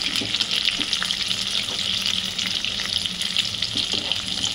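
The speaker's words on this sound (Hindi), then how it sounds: "तेज़ गैस पे फ्राई होना है।" Potatoes fry in a kadhai over a high gas flame for a crispy, spicy potato dish, giving a steady, close hiss and crackle of hot oil that runs without pause.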